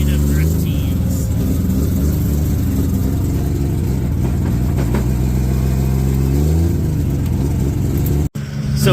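Formula Drift team cars, including a rotary-engined machine, rolling out together to the hot pit in the morning in Salt Lake, Utah, with a steady loud engine drone and rumble and a voice talking over it.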